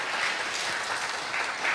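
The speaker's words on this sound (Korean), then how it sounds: "박수 한번 크게 시장님께 올려주세요." Audience applause for the mayor at the opening ceremony of a Jeonbuk poets' association poetry performance in Gunsan, a steady, dense wash of clapping from a seated crowd that holds at an even level for the whole moment.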